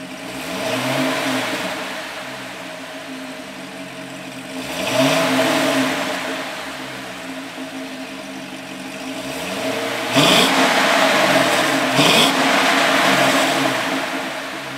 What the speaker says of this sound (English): the sound of this OHV V8 is sure to send chills down your spine